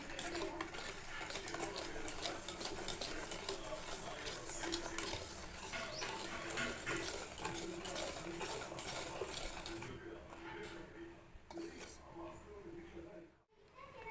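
Melted chocolate being mixed into beaten eggs for brownie batter, a steady close scraping and clinking of a utensil against a bowl that runs throughout and thins out near the end.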